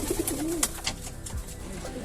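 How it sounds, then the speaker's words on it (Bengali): Pigeons coo inside a coop in a few soft, rolling calls close by, with a faint chirp or flutter among them and no talking. "যেই আমি এসে লাইটটা চালাইছি আর কবুতর ডাকাটাকি শুরু করে দিছে"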